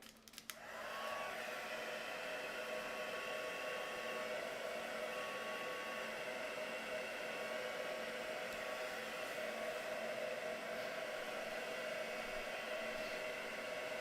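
A hair dryer drying sparkly craft work, switching on with a click and then blowing as a steady, close, even whoosh with a faint whine, no talking.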